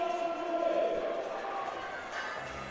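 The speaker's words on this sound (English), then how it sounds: "The crowd is getting behind Cody here for this 245 squat" A crowd cheers on a college powerlifter about to attempt a 245 squat at a national collegiate meet, a sustained mass of shouting and yelling voices in a large hall, steady and moderately loud throughout.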